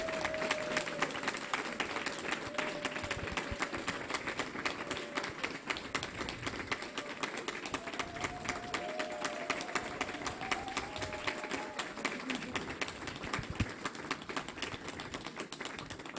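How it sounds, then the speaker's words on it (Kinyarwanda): A conference audience claps continuously for the full stretch, a dense sustained patter of many hands, with faint voices mixed in underneath. "Let's all clap for them."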